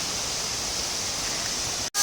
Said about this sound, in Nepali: सानो छ झरना चाहिँ जस हाम्रो गाउँको खोलामा यत्रो भयो नि झरना त छ